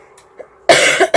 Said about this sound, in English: Please excuse my coughing.